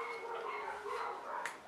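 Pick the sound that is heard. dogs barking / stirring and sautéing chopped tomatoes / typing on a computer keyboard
dogs barking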